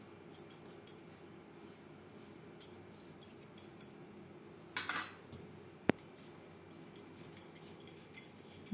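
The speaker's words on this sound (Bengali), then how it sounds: "ঘি শুকনো উপকরণের সাথে বেশ ভালো করে মিক্সড করে দেবো" Ghee is rubbed into dry ingredients for chanar jilapi dough. Faint, scattered clinks and soft scrapes of a utensil against a bowl sound over a quiet background, with one sharper tap near the end.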